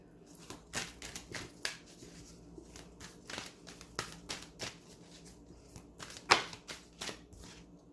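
A deck of cards shuffled by hand in a quiet room, heard as a series of short, crisp riffling bursts that repeat at an uneven pace, fairly close and soft, with no talking.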